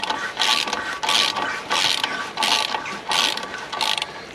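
A ratchet wrench works on a car's front linkage, sounding as loud, close bursts of rapid clicking in a regular back-and-forth rhythm of about six strokes, with no talking.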